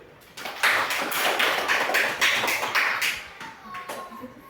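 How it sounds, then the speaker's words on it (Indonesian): Classroom of students clapping hands together, a burst of uneven, fairly close claps with distinct individual slaps that thin out toward the end, with a voice briefly audible. "tepuk tangan dulu"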